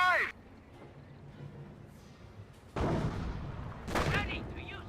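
Anti-tank gun fire in a Company of Heroes battle, two heavy broadband blasts about a second apart with rumbling decay, following a voice at the start and set against a low battlefield background.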